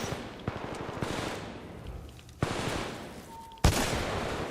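Gunfire in Titanfall 2 crackles in dense bursts over a constant loud wash of battle noise, with a few harder, heavier shots standing out near the end.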